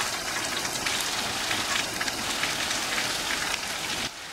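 Heavy rain pours down steadily in Thall, a dense hiss of drops hitting surfaces, close and constant, with no voices.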